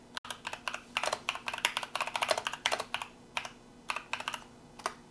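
Fast typing of a search query on a computer keyboard, a steady run of close, crisp key clicks in quick bursts with brief pauses, no voices.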